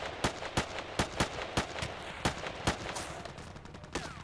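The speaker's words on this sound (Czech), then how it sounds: "Dám si tam těžký kulomet." A heavy machine gun in Battlefield 2 fires in rapid, loud bursts of sharp reports, roughly a dozen close shots in uneven rhythm over a constant background of battle noise.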